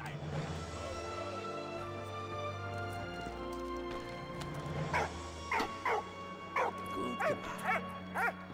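A puppy companion in the video game Valiant Hearts barks in a quick series of short, sharp yips over a tonal game music background, fairly close and distinct.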